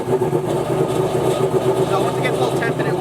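Procharged Corvette Z06 engine idling cold on slicks, a rough, lumpy mid-pitched burble held steady and close for the whole stretch, with no voices over it.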